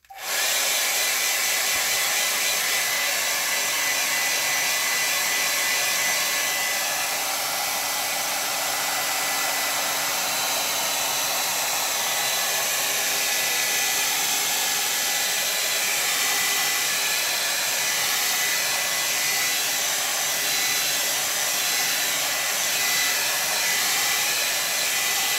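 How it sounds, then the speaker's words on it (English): A blow dryer dries a watercolor painting of an indigo and vermilion landscape, giving a steady, loud, unbroken airy roar that runs continuously for about twenty-five seconds with no speech. "So I'm going to use the blow dryer."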